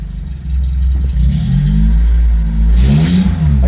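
The engine of a 1984 Toyota Tercel SR5 with transmission trouble runs in gear, a close, loud rumble that rises and revs as the front wheels turn.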